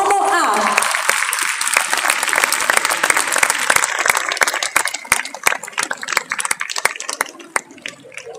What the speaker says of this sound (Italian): Le accogliamo con un grandissimo applauso, le Promo A!